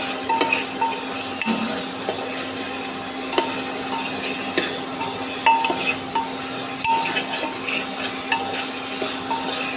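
Chicken sizzles in a pan as chili powder is stirred in, with repeated clinks and scrapes of a spoon against the metal over a constant frying hiss.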